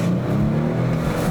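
A Kia Stinger with a 3.3-liter engine being driven, its motor humming and revving in a steady, close drone from inside the car.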